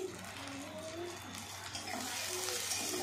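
Onion, carrot, beans and chopped capsicum fry in a pan with a soft, steady sizzle and light stirring. The sound is faint and continuous, with a few quiet tonal sounds in the background.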